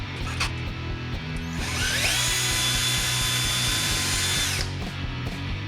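A Parkside PBSA 12 B1 cordless drill drives a small 0.7 mm screw. The motor spins up to a steady high whine for a couple of seconds and then stops, close and loud, with no talking.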